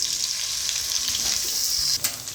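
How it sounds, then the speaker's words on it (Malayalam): Steady, close sizzling of paneer shallow frying in sunflower oil, a continuous bright hiss with a brief disturbance near the end. "ഞാൻ ഇതിനകത്തേക്ക് പനീർ വെച്ചിരിക്കുന്നത് കുറച്ച് ചെറുതായിട്ടൊന്ന് ഷാലോ ഫ്രൈ ചെയ്തെടുക്കുന്നുണ്ട്."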